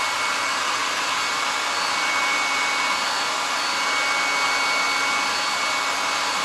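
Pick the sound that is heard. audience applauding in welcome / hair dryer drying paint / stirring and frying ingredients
hair dryer drying paint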